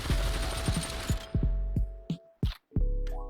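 Submachine gun in the VR shooter Population ONE fires a loud sustained burst, then several short separate bursts and single shots with brief gaps between them.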